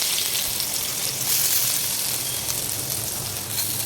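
Cumin seeds sizzling in a quarter measure of hot oil in a kadai, a steady dense crackle and hiss that holds evenly close up with no voices.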